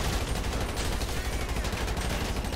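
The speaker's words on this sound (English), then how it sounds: "He's shooting! Suspect is shooting! I'm getting my rifle out." Rapid gunfire in GTA 5 as a suspect and a highway patrol officer's rifle trade shots near Sandy Shores, a dense continuous barrage of loud overlapping cracks and bursts filling the whole stretch.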